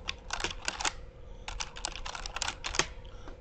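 Fairly quiet clacking of rapid typing on a Cooler Master MasterKeys Lite L mechanical keyboard, uneven bursts of keystrokes close up with no talking.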